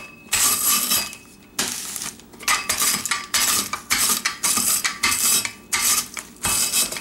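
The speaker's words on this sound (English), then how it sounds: "it's a lot easier if you put the graham crackers in a Ziploc bag and you take this, which is your rolling pin," Rolling pin crushing graham crackers inside a Ziploc bag, a series of loud, close crunching and clattering bursts at a steady rhythm with short pauses between strokes.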